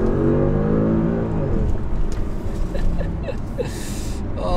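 An APR Stage 3 tuned Audi S6 accelerates hard from inside the cabin, its engine note climbing in a rising roar that then settles into a steady road rumble as gear changes bring faint whirs.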